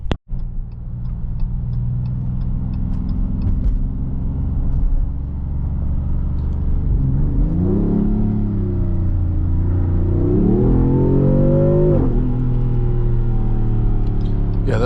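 A 550 hp 2026 Dodge Charger Sixpack engine drones from inside the cabin, then revs climb in two strong surges as it accelerates on a highway, rumbling loudly with a rising whine.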